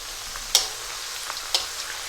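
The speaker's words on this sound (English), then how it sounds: "The samosas are cooking nicely and they're beginning to fry." Samosas frying in hot oil with a skimmer spoon, a soft steady sizzle with a few sharp crackling pops and stirring clinks, fairly quiet and without talk.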